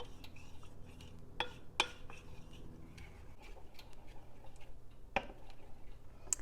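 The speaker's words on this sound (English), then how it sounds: "So just got to keep stirring it" A spoon stirs a thickening sweet mixture for a Granny Smith apple dessert salad in a pan, giving sparse soft clicks and scrapes at a quiet, steady low background.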